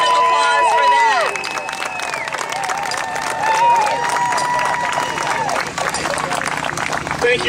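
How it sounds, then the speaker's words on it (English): A conference audience applauds a speaker at a political event, a dense sustained clapping with some cheering and whoops, loud and full at first and easing slightly, with background crowd murmur. "let's give him a bigger round of applause for that"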